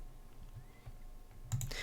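A computer mouse gives a couple of quick, close clicks while working in an Excel spreadsheet, sharp and brief against a quiet room background.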